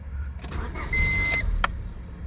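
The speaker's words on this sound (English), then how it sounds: "You hear a little clicking with the keys." Short clicks and a faint key jingle come from the ignition of a 1999 Honda Civic DX hatchback with a suspected main relay fault, close and moderately loud inside the car, with a brief tonal chime.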